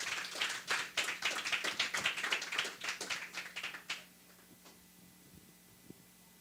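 A forum audience gives a welcoming round of applause for a machinery company's general manager. Brisk clapping runs for about four seconds, then breaks off into a quiet hall with a few stray claps and taps.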